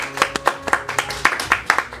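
Church congregation clapping together, a steady rhythmic series of about a dozen sharp claps at an even tempo, close and fairly loud, with no talk.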